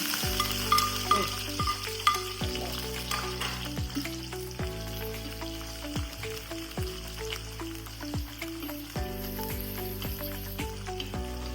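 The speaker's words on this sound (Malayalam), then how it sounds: "ഉള്ളി നല്ലവണ്ണം ഒന്ന് വഴണ്ട് വരട്ടെ" Steady sizzling of onions sautéing in hot oil after mustard seeds, with occasional stirring and scraping sounds in a quiet kitchen.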